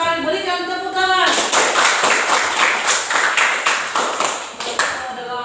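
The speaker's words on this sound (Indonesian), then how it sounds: "Bagus sekali, berikan tepuk tangan." Applause for a student group in a classroom: brisk rhythmic clapping from several pairs of hands, loud and close, following a spoken voice at the start.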